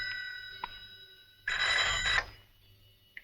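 A telephone bell rings in a quiet room, with a couple of faint short tones first, then one loud sustained ring burst lasting under a second, followed by a brief click.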